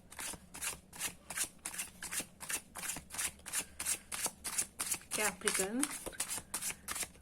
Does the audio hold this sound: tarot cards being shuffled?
yes